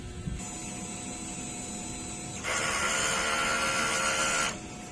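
A DTF printer runs its print head cleaning cycle, a steady mechanical whir that jumps into a louder, broader rushing hum partway through before settling back, close and continuous with no talk.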